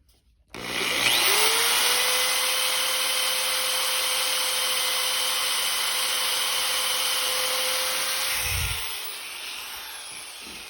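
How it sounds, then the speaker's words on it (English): Power drill with a Forstner bit boring a flat-bottom blind hole in wood, a sudden start into a steady close whine with grinding cutting noise for about eight seconds, then winding down and stopping. "Here I have a Forstner bit."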